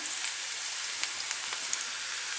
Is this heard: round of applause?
no